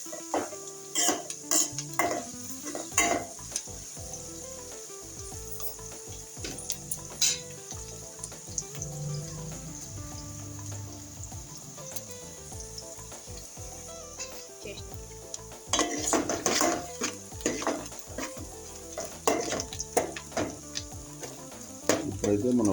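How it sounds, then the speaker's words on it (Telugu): Onions frying in oil in a pan for a spicy chicken curry, with a continuous sizzle broken by repeated clinks and scrapes of a metal spoon against the pan, close and with no voices. "ఇప్పుడైతే మన ఉల్లిపాయలు వేగిపోతున్నాయి ఫ్రెండ్స్."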